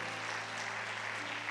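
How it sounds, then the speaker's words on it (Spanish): Audience applause at a church marriage meeting, a brief, steady patter of clapping heard faintly at a distance over a low hum. "Denle un aplauso"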